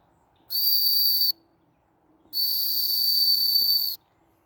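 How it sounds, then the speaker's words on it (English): A homemade whistle carved from willow bark gives two loud, steady high-pitched blasts, the first about a second long and the second nearly two seconds, with a slight breathy hiss. "The whistle is nice."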